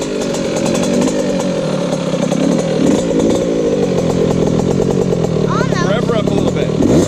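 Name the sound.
Yamaha YZ65 dirt bike engine with FMF exhaust revving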